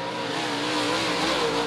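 Open wheel UMP modified race car at a dirt oval, its engine held at a loud, steady high-revving roar on throttle throughout, close and continuous with no talk.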